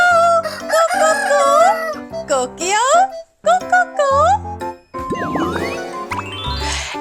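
A voice mimics a rooster's crow in sing-song rising and falling calls, repeated several times at close range.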